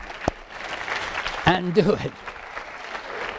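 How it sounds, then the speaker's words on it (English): An audience applauds for volunteers at a high school hypnosis demonstration, steady clapping running throughout while someone speaks over it. "all of this applause is for these guys that were brave enough to come up here"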